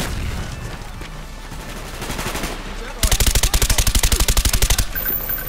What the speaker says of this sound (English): He was shooting bullets at me when I wasn't even there.